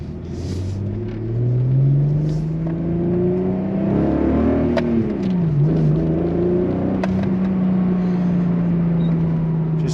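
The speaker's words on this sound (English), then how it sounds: "Just such a nice sounding car, period. Can you beat the sound of a VR6?" A Volkswagen Corrado VR6 with a built motor, Schimmel built head and 268 cams revs up with a loud, steady engine drone that climbs and falls in pitch over ten seconds, with no talk.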